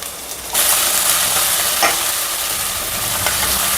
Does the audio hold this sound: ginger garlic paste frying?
yes